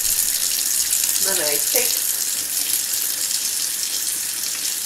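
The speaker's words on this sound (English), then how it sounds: "I'll go ahead and rinse that off." Tap water runs steadily from a faucet into a sink as a makeup brush is rinsed, a constant close hiss filling the whole stretch, with a brief spoken phrase partway through.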